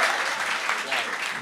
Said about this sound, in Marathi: अरे एकदा जोरदार टाळ्या विवेकसाठी